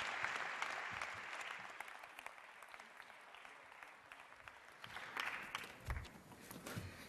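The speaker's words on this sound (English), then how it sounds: "A warm applause for Shobana." An audience at an interfaith dialogue event applauds warmly, steady clapping from a crowd that tapers slightly then swells again near the end.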